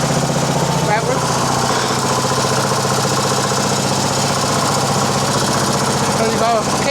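A rare 1950 Clifford A3 walk-behind rotary cultivator with a 6hp JAP engine runs nearby, its single-cylinder engine chugging in a loud, steady, rapid knock while someone talks over it.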